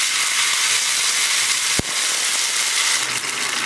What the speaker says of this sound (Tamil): இது கூட 1/2 கிளாஸ் தண்ணி